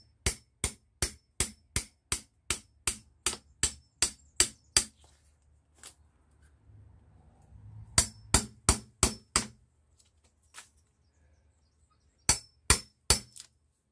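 Sharp hammer blows on a chisel strike steadily in a fast, even series to free a walking stick billet with hand tools, pause, then resume in two shorter bursts, close and distinct.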